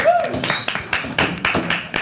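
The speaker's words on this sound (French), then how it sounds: "On peut applaudir Fafa, allez." A few scattered hand claps from a small studio audience on a French web TV show, welcoming a guest named Fafa. The claps are brief and sparse, mixed with talking and a bit of music.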